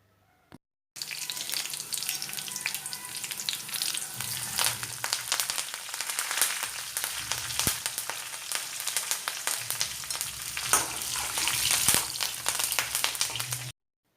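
Garlic and curry leaves frying in hot oil for mango pickle, a dense, continuous crackling sizzle with bright spitting pops that starts abruptly and holds steady at close range, with no talking.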